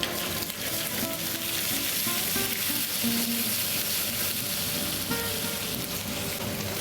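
Apples frying in a pan and deglazed with Corrèze apple juice, a loud, dense, continuous sizzle and hiss with faint stirring, no voices.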